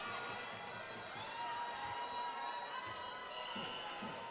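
A large crowd of ice hockey fans roars and cheers steadily throughout, a dense wall of shouting voices with occasional louder swells, heard from within the stands at a play-off semi-final.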